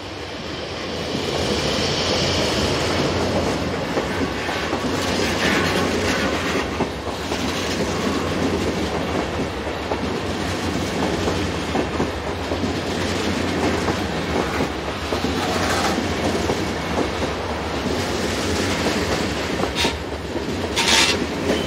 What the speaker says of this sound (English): 101055 arrives with a train for Luxembourg.